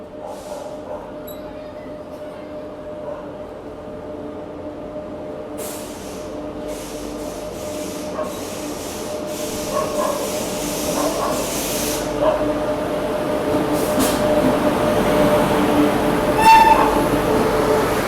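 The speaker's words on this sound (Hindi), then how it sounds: "फाइनली ट्रेन आ चुकी है" A passenger express train pulls in at platform 7 of an Indian railway station, a steady rumbling roar with hissing that swells gradually over the span, mixed with platform bustle.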